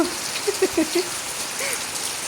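Rain falls in a steady, close hiss, with a few brief, faint voice-like sounds early on.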